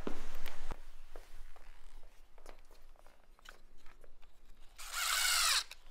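A power drill drives screws into the wooden frame of a tall homemade lighted Christmas tree outdoors, with a loud, sustained whirring burst near the end after scattered knocks and handling noises.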